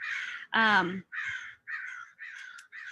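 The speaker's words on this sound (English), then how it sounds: "Excuse the crows over here." Crows caw close by in a series of about six harsh, rasping calls spaced roughly half a second apart, one of them louder and fuller than the rest.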